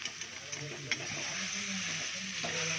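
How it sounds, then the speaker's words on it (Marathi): Washed fish pieces frying in a pan of sautéed spices give a steady, close sizzling hiss throughout, with a few scraping stirs and a soft clunk near the start; faint background voices murmur underneath. "मसाले व्यवस्थित परतल्यानंतर आपण स्वच्छ धुतलेले माशाचे तुकडे यामध्ये टाकतोय"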